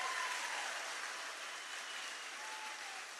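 Crowd applause for Thomas and Jacob at a Turning Point USA event, a steady, even wash of many hands clapping, moderately distant, with a faint whistle over it.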